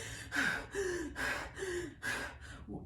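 A person gasps to catch their breath, repeating about five strained inhalations in a quick, uneven rhythm, close and clear with no talk.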